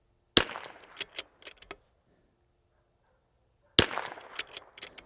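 Two sharp .22LR rifle shots firing Eley Match ammunition at a range, each a crisp crack followed by short echoing ticks, spaced about three seconds apart with near silence between.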